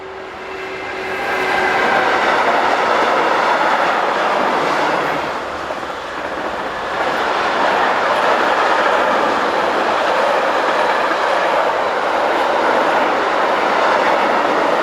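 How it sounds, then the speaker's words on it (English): Locomotive 152103 hauling a train bound for Verona passes on a German mainline near Fulda, a loud sustained rush and rumble of wheels with clickety-clack, dipping briefly mid-pass then continuing strongly. "Another blast from the past shows 152103 with a train bound for Verona."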